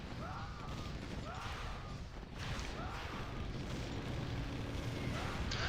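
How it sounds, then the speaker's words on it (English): A gravity grenade bursts in a Warcraft 3 Battle Tanks match, a loud rumbling blast amid continuous dense game battle noise, with repeated swooping tones and scattered impacts, while a commentator talks over it. "now he gets gravity grenaded, and Pikabar is the one to die in that excha"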